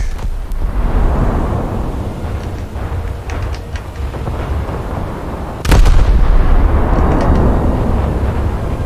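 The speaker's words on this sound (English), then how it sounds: "Torpedo impact." A torpedo strikes a light cruiser in a naval battle in War Thunder, a deep sustained rumble of heavy detonations that jumps sharply louder midway and keeps booming without voices.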